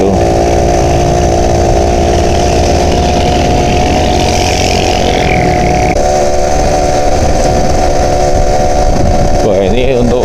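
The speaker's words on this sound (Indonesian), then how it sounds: "Wah ini untuk kalau dari rasa suara mesinnya itu powernya masih ada Mas." An old Yamaha Alfa 2R motorcycle engine labours uphill on a mountain road, a loud, steady two-stroke drone close by with a slight rise in pitch near the end, while a rider talks over it.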